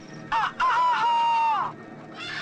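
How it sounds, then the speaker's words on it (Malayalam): A chicken lets out a loud, drawn-out squawk that rises and holds steady for about a second before dropping off, with a shorter cry just before it. "ഈ ശബ്ദല്ലേ? അതൊരു കോഴിയാണ് സാർ."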